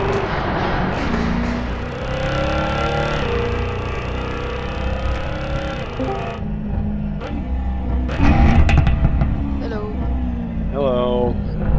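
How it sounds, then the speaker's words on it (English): Race cars driving in the Assetto Corsa racing game with a crowded online field on a track, engine tones rising and falling as cars rev and shift, sounding close and loud under frequent talk. "I see cars flying everywhere."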